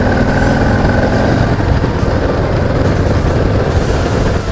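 A 2018 Harley-Davidson Heritage 114 engine drones steadily at close range while riding in 4th gear around 2000 rpm, loud and continuous, with a low rumbling throb and wind noise throughout.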